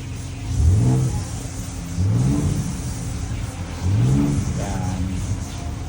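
A Ford Raptor V6 engine in sport drive mode revs in three distinct rising bursts, each climbing sharply and dropping back to a low idle rumble, loud and close with no talking.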